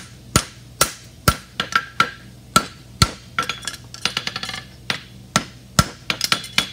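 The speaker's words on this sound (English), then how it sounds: "And I'm dragging the hammer, dragging it all the way down." A hammer strikes metal over an anvil horn in sharp, ringing blows, first evenly spaced, then faster clusters of lighter taps and scraping clinks, loud and close.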